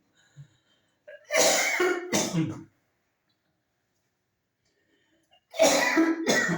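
A man coughs in two separate episodes several seconds apart while explaining a lesson, each a loud burst of two or three close hacks with silence in between.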